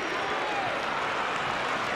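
Steady, dense crowd applause fills a football stadium, the Monumental, honoring the coach; a continuous, even wash of clapping and cheering with no distinct breaks.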